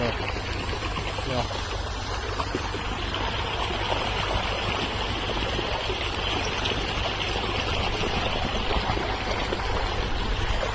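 Water runs steadily while bottles are filled at a farm field, a continuous rushing flow that stays level throughout. Voices talk faintly beneath it.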